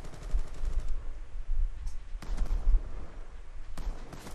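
Automatic gunfire in the video game Black Ops 2: loud, close bursts of rapid shots stop and start in several separate volleys, with short quieter gaps between them.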